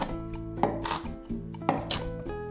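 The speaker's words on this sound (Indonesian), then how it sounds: "Cili merah besar, potong kasar." Large red chillies being coarsely chopped on a board, a run of firm knife strikes in uneven rhythm, close and clear with no talk over it.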